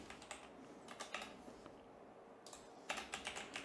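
Quiet clicking of computer keys in irregular bursts of quick taps, pausing briefly near the middle before a final flurry of keystrokes.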